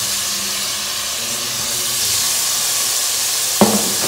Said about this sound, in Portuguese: nós vamos refogar esse arroz, bem refogado, até secar toda a aguinha aqui